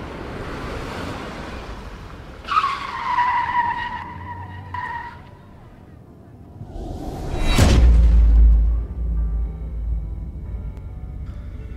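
A car driving in a video game, its engine whining and whooshing, then a sharp screeching skid followed by a heavy low thud, with game ambience around it.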